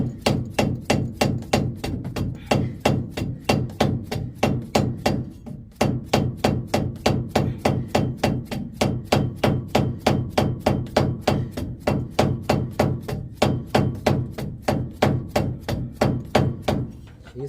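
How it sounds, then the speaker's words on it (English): A dead blow hammer striking repeatedly at a broken bolt on a Pontiac engine: loud, evenly spaced thuds, about two per second, continuing for many seconds with one brief pause, no talking. "I like to use a dead blow hammer because you don't want to damage your pulley"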